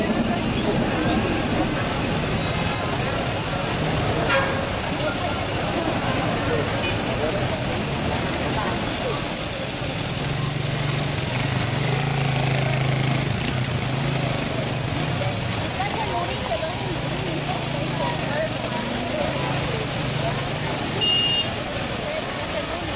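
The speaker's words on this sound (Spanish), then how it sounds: "Luego cruzamos los trenes Metrópolis 9000 en dirección a la estación Miguel Grau." Loud rumble of Metrópolis 9000 trains on the Lima Metro rolling by, wheels clattering and screeching over a steady roar, with people talking faintly under the noise.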